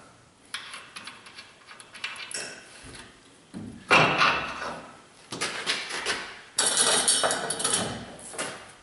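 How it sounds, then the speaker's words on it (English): A Dodge Ram front axle shaft is slid back into the axle housing during a 4WD repair, with intermittent metallic clanks, knocks and scraping, close and moderately loud, and no talking. "now I guess we're ready to just put the axle shaft back in and move on"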